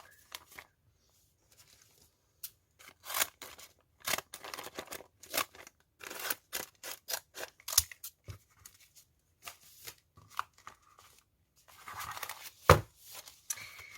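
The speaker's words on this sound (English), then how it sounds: "So I'm going to just cut that one off a little bit more." Scissors snip through paper for a brown bag junk journal, a series of short crisp cuts in irregular bursts with quiet pauses between, close and fairly faint, with light paper rustling and a brief louder crunch near the end.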